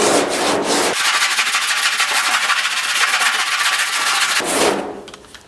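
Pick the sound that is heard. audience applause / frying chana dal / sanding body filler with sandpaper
sanding body filler with sandpaper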